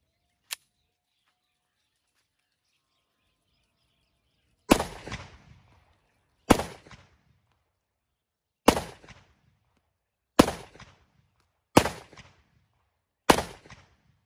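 A 30 bore Zastava pistol fires a faint early shot, then six loud, sharp reports spaced a second or two apart, each with a short echoing tail.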